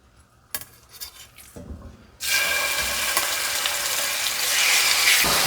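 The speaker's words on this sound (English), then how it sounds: "to our skillet, we're going to add some avocado oil. And then add in our meat." Steak dropped into avocado oil in a hot skillet bursts into a loud, steady sizzle that continues and swells slightly, preceded by a few quiet clanks and handling noises.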